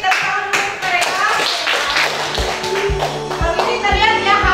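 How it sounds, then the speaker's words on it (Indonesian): Classroom students clap for a group that has presented the cable they built, a loud burst of close, uneven handclaps with voices talking over it. "Beri tepuk tangan untuk mereka."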